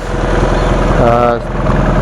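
A BMW F650GS motorcycle engine idles with a steady, throbbing low rumble, close and loud, with a brief voice-like tone rising over it midway.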